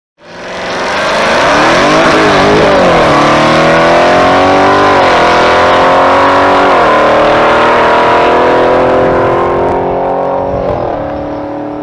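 A tuned Audi RS7 with an APR upgrade launches on a quarter-mile drag strip, its engine roaring loud and close, climbing through gears with short dips at each shift and holding a strong, sustained howl to the end.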